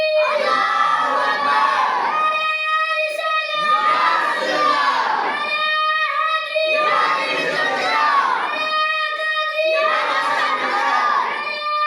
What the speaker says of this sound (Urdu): تو ایک زوردار نعرہ آپ کے جو ہنار طالب علم ہیں ان سے ہم سنیں گے